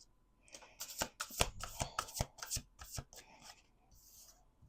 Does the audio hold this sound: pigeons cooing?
no